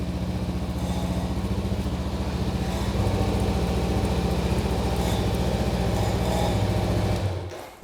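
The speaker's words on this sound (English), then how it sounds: "It's idling at 2000 RPM, but it will be lowered as soon as the engine heats up." A 2019 Honda CB500F parallel-twin engine idling steadily at a raised cold-start speed, close and loud, a constant even thrum that cuts off abruptly near the end.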